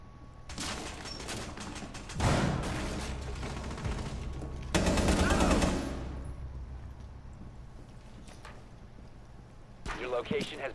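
Bursts of automatic gunfire in Rainbow Six Siege, loud rapid volleys in two main stretches with quieter mechanical clicks between, under occasional voices speaking.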